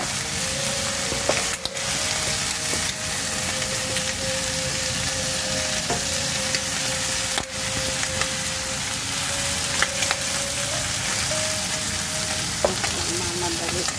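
Garlic and onion sauté in a pan for a kare-kare dish of pig feet, a steady dense sizzle and crackle with occasional stirring scrapes, and heavy rain falls in the background.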